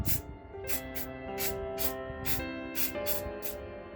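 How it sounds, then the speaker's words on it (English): Short bursts of spray paint from a can hiss in a steady rhythm onto a metal showpiece, about nine quick puffs over a low background drone. "you need to only spray it across like this"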